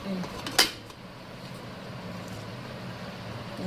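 Steamer pots are stacked on top of each other, giving a single sharp metallic clank near the start, followed by a low steady background hum.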